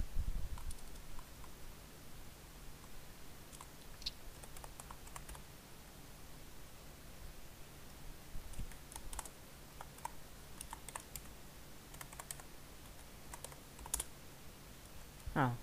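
Keys on a computer keyboard tapped in scattered short bursts while playing the hacking game Hacker Evolution, faint and close over a low steady hum, with irregular gaps between strokes.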